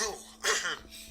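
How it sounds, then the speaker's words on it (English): A man coughs and clears his throat in one short, harsh burst, turned away from the microphone and muffled, with breathy throat noise around it. "I need to cough for a second."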